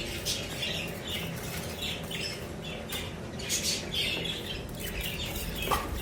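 Budgerigars in a rainbow-plumaged group squawk and chirp repeatedly in a steady, busy chatter close to the microphone.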